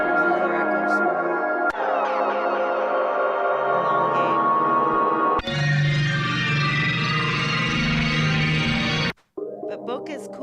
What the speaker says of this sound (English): There's another echo swirl.